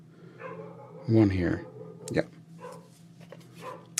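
A pet dog barks and yips in a short excited burst close by, loudest about a second in, with someone talking over and around it.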